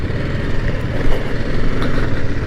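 A motorcycle engine runs with a continuous low rumble, close and loud, as the bike is moved onto a central road, with no talking over it.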